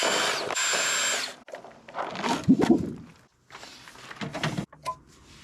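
A power drill bores oversized holes in custom car door cards. There are a few close bursts of whirring with short pauses between them, and clunks and handling noise in the gaps.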